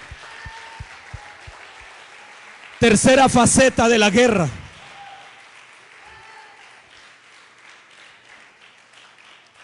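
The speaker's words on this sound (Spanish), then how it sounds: "Le puedes dar un fuerte aplauso a aquel que es digno de recibirlo" Loud burst of audience applause in a church during a sermon, lasting about two seconds between stretches of a preacher's speech, with faint knocks before and a quiet room after.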